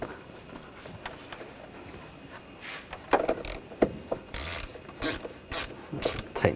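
Ratchet wrench tightening the positive battery terminal nut on a 2004-2012 Chevrolet Colorado, close-up clicking and rasping strokes in short irregular bursts, no talking.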